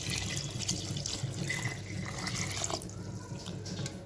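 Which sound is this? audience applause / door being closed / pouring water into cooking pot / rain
pouring water into cooking pot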